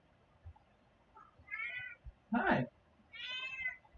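Cat meowing indoors, a few drawn-out plaintive meows and a short chirp spread over several seconds, fairly faint and close, with a person briefly speaking between the calls.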